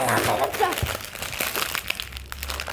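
A crinkly plastic snack wrapper being torn open, with crackling and rustling bursts close by, mixed with people talking.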